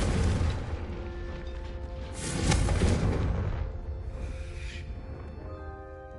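A Confringo fire spell goes off in Hogwarts Legacy on PS5 with a muffled boom and a rolling burst of noise that swells in the middle and then fades into game ambience. No one talks.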